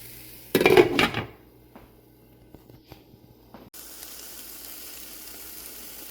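Garden-grown vegetables and an onion hit a hot pan with a short, loud burst of sizzling, then settle into a faint, low crackle amid quiet kitchen sounds and a few light clinks.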